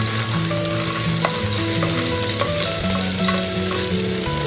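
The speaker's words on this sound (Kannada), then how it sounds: "ಮೊಳಕೆ ಹುರುಳಿಕಾಳನ್ನ ಈ ಒಗ್ಗರಣೆಗೆ ಹಾಕ್ತಾ ಇದ್ದೀನಿ" Sprouted horse gram tipped into hot oil tempered with mustard seeds, a loud dense sizzle and crackle that holds steady throughout, with no voices.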